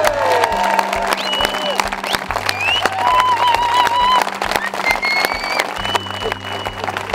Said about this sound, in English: If we can just give a big round of applause for yourselves.